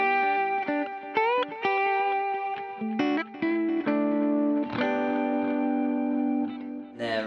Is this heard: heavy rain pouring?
no